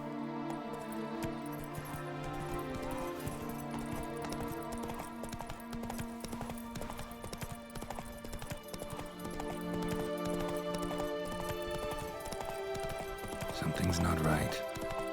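Horse hooves in The Witcher 3 clip-clop in a steady, rapid rhythm beneath a dense layer of game music, ending in a louder rustling burst.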